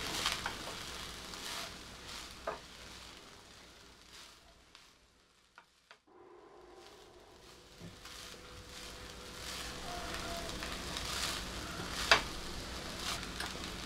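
A rice and mango mixture is stirred in a hot pan, giving a continuous soft sizzle with scraping stir strokes, briefly dropping away near the middle before resuming close up.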